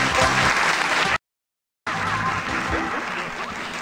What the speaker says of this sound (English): The new feature was the clapping that occurs after 10 minutes.